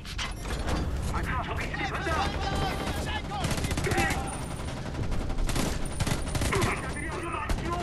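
Dense, near gunfire in the first-person shooter Homefront: The Revolution, with rapid overlapping shots and crackling bursts throughout, while someone talks over the shooting.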